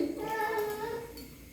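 A cat gives a single drawn-out meow, faint and fairly close, with light background noise.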